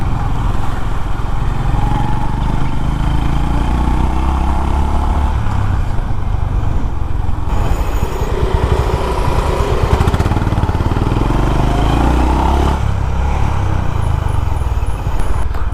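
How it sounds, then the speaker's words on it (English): A Honda CB350 RS motorcycle rides on the road, its engine a steady low rumble with wind buffeting, loud and continuous throughout with slight shifts in tone as it moves. "the Honda CB350 RS road sailing, or I would call it a road sport because of the handling of this motorcycle"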